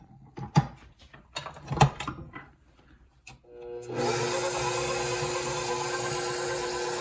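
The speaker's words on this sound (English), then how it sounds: "I'm going to throw all that right into our handy dandy mixer here with our dough hook attachment." A stand mixer fitted with a dough hook starts kneading butter roll dough, a steady whirring motor hum with rhythmic churning that comes in after several seconds of clunking and handling knocks.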